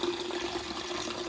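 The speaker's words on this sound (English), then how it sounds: "You are simply going to pour water into the pitcher." Water being poured into a pitcher for cold brew coffee, a steady soft splashing stream with a faint ringing tone as the vessel fills, heard alone.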